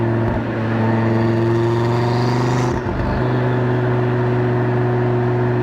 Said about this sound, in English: you can just distinguish that is a TT-RS, like that's a 5-cylinder